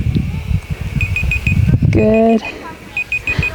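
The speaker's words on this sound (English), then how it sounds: "That's my little alarm telling me it's time to start stretching" A small timer alarm beeps during a functional fitness workout, a steady run of short high pips that pauses and resumes, with an instructor speaking over it.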